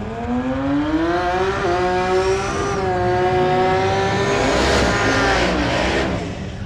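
Unlimited-class race cars at a drag strip in Tulsa, a loud engine roar climbing in pitch as they accelerate hard, with a second engine layering in and the sound swelling before fading away.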